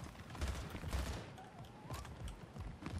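Rapid bursts of gunfire in the arena shooter Splitgate Arena, a few clustered volleys of sharp shots with mechanical clicks between, close and moderately loud against game background noise.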